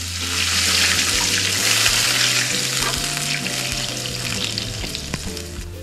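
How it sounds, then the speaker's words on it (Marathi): Water poured into a hot pan of masvadi filling spiced with hing, giving a loud, steady hiss and sizzle with faint stirring, close up and without voices. "आता आपण पाणी घालून घेऊयात"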